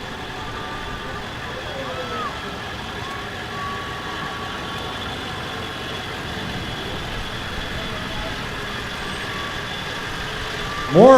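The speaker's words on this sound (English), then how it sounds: "More fire engines." Fire engines roll through a Christmas parade in Cashiers, a steady low engine rumble and idling drone in an outdoor crowd, with voices nearby and a sharp louder burst at the very end.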